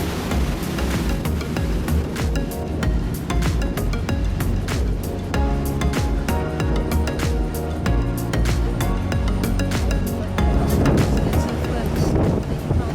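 A tour boat cruises the River Thames in London with a constant engine drone and wind rumbling across the microphone, while music and voices play over it throughout.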